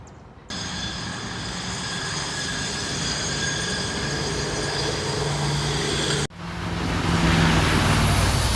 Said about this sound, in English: Southbound on the Shortline. CSX snuck up on us.